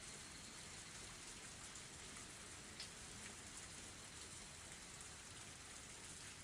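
Steady pouring rain in the visual novel Higurashi When They Cry, a dense, unbroken hiss of heavy rainfall at constant level with no other sounds.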